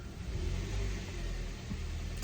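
A Kia car engine revs steadily in reverse while the automatic gearbox fails to engage, giving a continuous mid-loud engine drone with slight swells across the short stretch, with no talk over it.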